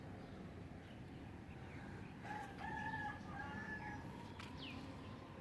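A rooster crows once at dawn, faint and somewhat distant, over a quiet background hiss, with no one speaking.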